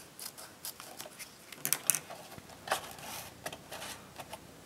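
Scissors snip through paper while a gift box for bath and body products is assembled, a few quiet crisp cuts spread across a near-silent background.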